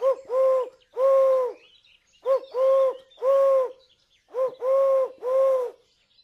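A bird call lure mimics a Eurasian collared dove's cooing: three groups of soft, hooting notes in a steady rhythm, clear and close with short pauses between phrases.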